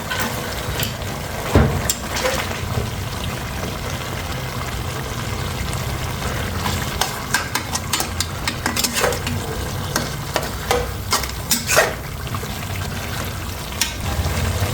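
Tomatoes and salt sizzle and fry in a beef Shinwari karahi, with steady loud frying noise throughout, punctuated by clattering stirs and scrapes of a utensil against the pan.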